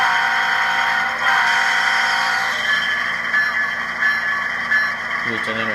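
A GE ES44AC model locomotive sound decoder sounds its horn and bell, steady blaring tones held over a continuous engine drone, fairly loud and close throughout.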